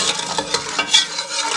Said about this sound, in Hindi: अब इनको हम अच्छे तरीके से मिक्स कर लेंगे